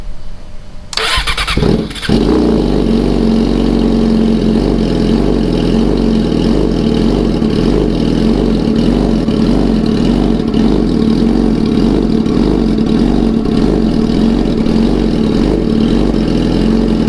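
Yamaha R6 and V4 motorcycle engines start up and settle into a loud, steady idle with a throbbing low rumble, close to the exhaust, held evenly with no clear rev spikes.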